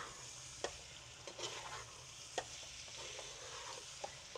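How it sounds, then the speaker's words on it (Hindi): Fenugreek being stir-fried gently on a low flame for mixed vegetables, with a soft steady sizzle under occasional light clicks and scrapes of a spoon against the pan. "हल्के लो फ्लेम पर हम हल्के हल्के हाथ से भूनेंगे इसको"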